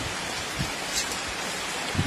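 Steady rain falls around a house with a garden of morning glory, a dense even hiss of drops without pause or voices.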